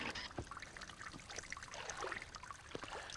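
Water runs steadily from a broken tap, a continuous trickling splash with small irregular spatters, fairly close and quiet, with no voices.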